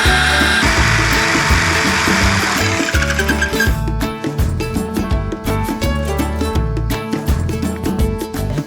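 A power saw cuts through wood for a homemade camping box fitted to a Fiat Doblò, a loud steady buzzing whine with rhythmic rasping pulses as the blade bites, close and continuous throughout.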